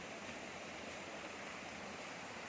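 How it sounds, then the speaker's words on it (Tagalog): A waterfall in Ilocos Sur gives a steady, broad rushing roar of falling water, constant and unbroken, heard from a moderate distance with no voices. "Tanaw mo na yung falls."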